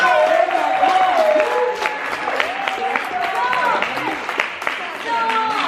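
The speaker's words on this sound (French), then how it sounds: "donc on peut donner une main d'applaudissement à notre capitaine Zan Godin" Applause rises for a team captain, with clapping and cheering voices mixed into a lively, steady crowd noise that holds for several seconds, close and fairly loud.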